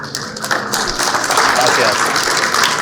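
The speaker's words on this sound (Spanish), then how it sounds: "Un aplauso por Ricardo." An audience at a conference claps for Ricardo, dense sustained applause filling the hall with voices mixed in.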